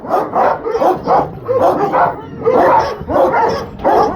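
A wolf-guarding shepherd dog barks repeatedly in a steady series of loud, close woofs spaced about half a second apart, with a faint voice in the background.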